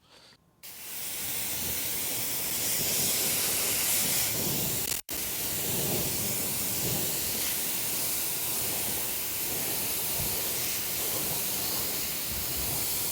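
Steady hiss of water spraying hard against a Tesla Cybertruck's exterior during a wash, continuous and close, with a brief break partway through before the spray resumes.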